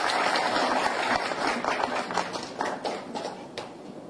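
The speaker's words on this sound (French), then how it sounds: "Mesdames et messieurs, sous vos applaudissements, le président de la République, son excellence Jovenel Moïse." Audience applause greeting Haiti's president, Jovenel Moïse, at a formal government event: a loud, dense patter of clapping that thins slightly toward the end, with scattered sharper claps.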